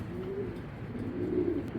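A female racing pigeon coos softly and close by in a low, throaty murmur that swells twice over a quiet room hum.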